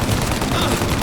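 Loud, dense gunfire in the Mafia: Definitive Edition video game, rapid overlapping shots forming one continuous close burst of automatic fire.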